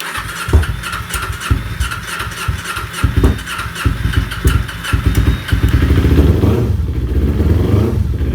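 Kawasaki Ninja 250R Special Edition engine catching and running after priming, rough and uneven at first with sputtering pulses, then settling into a steady, loud, close idle hum.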